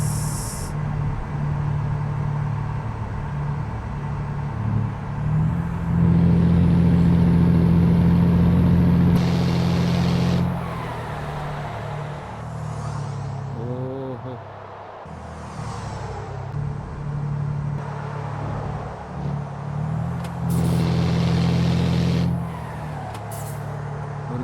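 Heavy truck engine in Euro Truck Simulator 2, a steady low drone that swells and revs through gear changes, with a brief hiss like an air release between shifts, all continuous and close.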